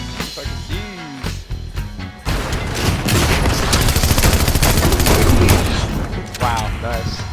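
Rapid, loud bursts of automatic gunfire and explosions in a shooter video game, sustained for several seconds, with a voice speaking briefly over the start.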